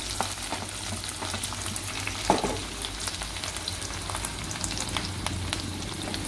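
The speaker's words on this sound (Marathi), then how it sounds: "कढई मध्ये तेल गरम करायला ठेवलेलं आहे, तर आपण थोडी मोहरी टाकून घेणार आहोत। कांदा बारीक कापून टाकून घेतलेला आहे" Chopped onion and capsicum frying with mustard seeds in hot oil in a kadhai, a steady close sizzle throughout with occasional stirring scrapes and small pops.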